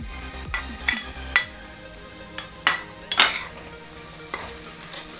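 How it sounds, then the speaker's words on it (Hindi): Capsicums hit golden-brown onions frying in a pan for masala macaroni, steady sizzle under repeated scraping, clacking stirs of a spatula against the pan, close and without talk. "अनियन अच्छे से गोल्डन ब्राउन हो चुके हैं। अब हम इसके अंदर डालेंगे कैप्सिकम्स।"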